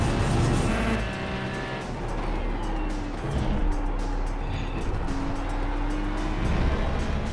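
A race car on a track drives with a loud, steady engine roar and rising and falling revs as it works near the limit.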